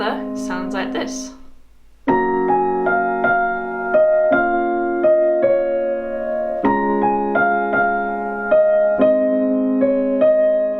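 Piano plays the chords of a song, with sustained chords in a gentle, steady rhythm that are close and clear, after a brief spoken lead-in.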